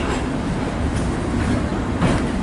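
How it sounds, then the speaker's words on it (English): A standard gauge freight train rolls past at Laverton in Melbourne, a steady loud rumble of wagons with faint clickety-clack rhythm and no voices. "So this is a standard gauge freight train."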